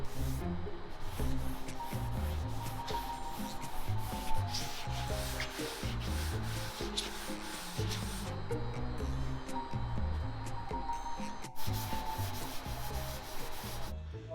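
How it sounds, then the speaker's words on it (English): Polyester body filler is hand block sanded with 180 grit on John Wayne's original Ford truck. A steady, continuous rasping scrub runs close and unbroken throughout, with no talking. "I'm gonna start blocking this polyester with 180"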